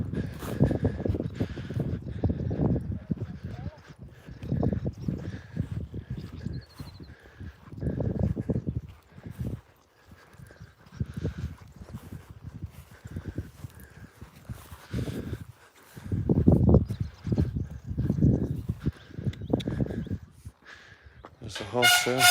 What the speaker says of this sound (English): There's the horse there.